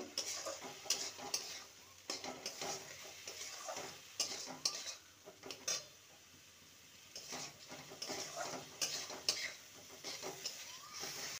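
A spoon stirs salt into an okra masala in a pan, making quiet repeated scraping and tapping against the metal over a faint sizzle, irregular and close, with no speech.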